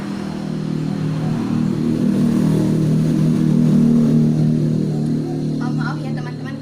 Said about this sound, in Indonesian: Maaf ya teman-teman karena suara motor banyak sekali mengganggu.